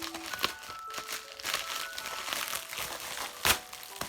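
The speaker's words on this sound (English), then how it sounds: "I'm gonna carefully cut it and then I'll probably just tear the rest of it." Close plastic doll packaging crinkles and crackles as it is cut with scissors and torn open, with irregular bursts and a sharp rip near the end.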